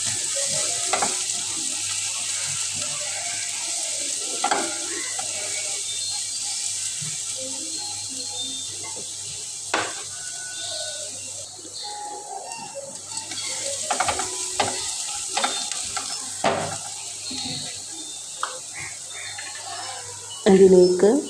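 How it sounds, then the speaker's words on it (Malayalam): Finely chopped large onion sautéing in coconut oil for Kerala-style uppumavu, a soft steady sizzle with occasional stirring scrapes and clinks, close by. "സവാള ഒന്ന് ചെറുതായിട്ടൊന്നിങ്ങനെ വഴിച്ചെടുക്കാം കേട്ടോ."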